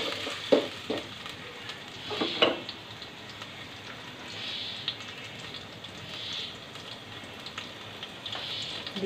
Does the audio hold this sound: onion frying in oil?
yes